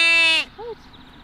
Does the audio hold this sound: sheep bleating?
yes